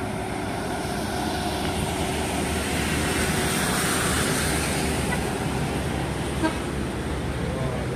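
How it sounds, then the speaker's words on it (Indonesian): Two trailer trucks overtake on a hilly road, their engines making a loud, steady roar with passing traffic noise that holds at a constant level throughout. "Wah, 2 trailer nyalip."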